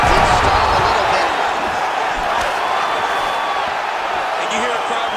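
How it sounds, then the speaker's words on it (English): Arena crowd in a UFC fight video game, Michael Chandler against Paddy Pimblett at UFC 314, roars steadily and loudly in reaction to strikes, a dense continuous wash of cheering with no pauses. "you hear a crowd react every time they come together"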